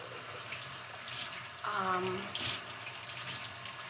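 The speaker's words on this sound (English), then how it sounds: "So let me wash my hands." Kitchen tap running steadily while hands are washed, a soft close hiss of water with a brief splashy change partway through, and a voice murmuring briefly over it.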